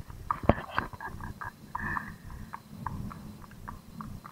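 A horse walks on a road, its hooves giving uneven, fairly close clip-clop thuds at a slow walking rhythm amid soft background noise.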